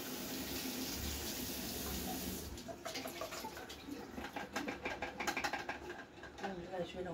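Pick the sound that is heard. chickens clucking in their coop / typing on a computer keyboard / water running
water running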